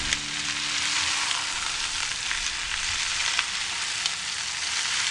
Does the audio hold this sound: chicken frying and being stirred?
yes